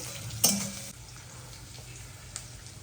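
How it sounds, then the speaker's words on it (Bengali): Onion frying with salt in a pan for an egg chilli recipe, a soft steady sizzle with a sharp utensil clatter near the start and a light tap later on. "তাই লবণ দিয়ে হালকা আগে পেঁয়াজটা ভাজা ভাজা হবে"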